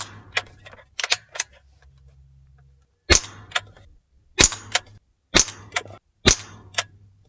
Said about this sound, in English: Next, we're going to go ahead and shoot these R10 match